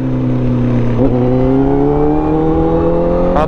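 A Honda CBR motorcycle engine revs hard in first gear close by, a loud steady drone that climbs in pitch, dips briefly about a second in and rises again before easing off at the end.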